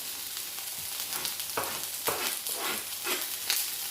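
Garlic sizzling and frying in a pan over low gas heat after leeks, a steady close crackle with occasional stirring bursts, no voices.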